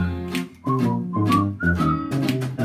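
A lively melody is whistled in a cheerful Bavarian song, the whistle carried clearly and near over a bouncy band accompaniment.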